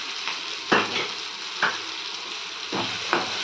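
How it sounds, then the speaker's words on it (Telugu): Ginger garlic paste frying with tomatoes in a pan for a Rayalaseema-style chicken gravy, a steady sizzle broken by four or five sharp scrapes of a spoon stirring, close and moderately loud with no talking. "అల్లం వెల్లుల్లి పేస్ట్ పచ్చివాసన పోయేదాకా ఫ్రై చేసుకోవాలి"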